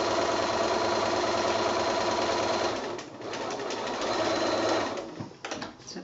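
A sewing machine stitches quilt binding with a continuous, close, loud mechanical whir that eases off and wavers toward the end.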